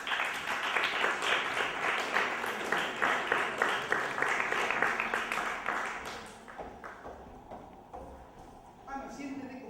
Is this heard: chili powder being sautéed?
no